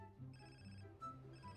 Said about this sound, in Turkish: Evet abi, telefon çalıyor gene.